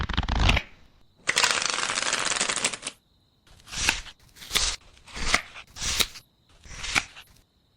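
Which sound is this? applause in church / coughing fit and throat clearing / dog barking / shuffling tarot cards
shuffling tarot cards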